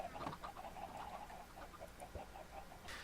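Chickens in Minecraft cluck in a quick, repeated, nasal pattern over a steady background hiss, with one brief brighter burst at the end.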